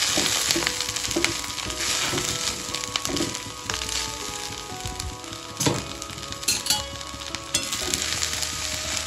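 Freshly picked gram greens, unwashed, are turned over by hand in a hot pan, giving a steady close sizzle and frying crackle with soft rustling and crunching of leaves as they move.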